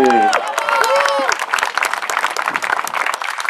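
Applause and cheering from a crowd greet a longsword fencer entering the field at a Polish longsword championship qualifier, with dense clapping filling the stretch after a loud announcer's voice fades.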